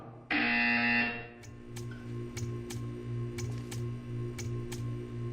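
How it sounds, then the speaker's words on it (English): A loud, harsh electronic buzzer in the video game Portal 2 blares for about a second, then cuts off, leaving a low hum and a few faint ticks and clicks. "You will hear a buzzer."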